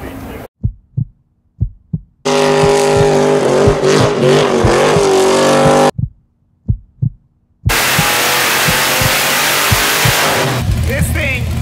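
A Mazda Miata swapped with a Hellcat engine revs hard and loud, bursts of roaring and rasping exhaust broken by short pauses with a lumpy idle throbbing between them, recorded up close.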